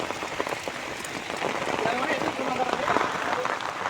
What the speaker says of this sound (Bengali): প্রচুর বৃষ্টি হচ্ছে বন্ধু গোলাম।